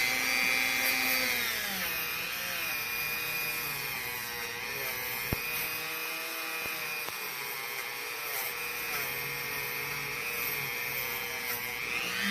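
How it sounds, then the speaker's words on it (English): A rotary power tool cleaning the inside of a metal header pipe tube before brazing, a loud continuous high whine that holds steady throughout, close and alone with one brief knock midway. "we're going to clean the inside of the tube as well as the outside of its mating partner"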